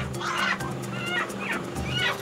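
Several chickens cluck in short bursts against a steady background hum, fairly close, with no talking.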